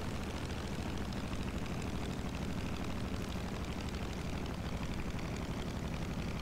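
An F8F-1 propeller fighter in War Thunder on approach to a carrier deck: a steady, loud droning roar of the piston engine and airscrew, even and unbroken throughout.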